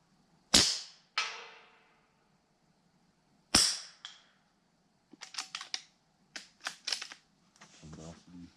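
Rifle shots fired at a target on a post in woodland, with 4.5, 6.35 and .22 long rifle calibres used. Two sharp nearby cracks with trailing echoes, then a third, followed by quicker clicking and handling noises and a brief voice.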